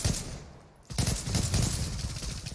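Sustained gunfire from the online shooter game Zula, a dense fusillade of rapid automatic shots that cuts out for a moment, then resumes loud and continuous to the end with no talking.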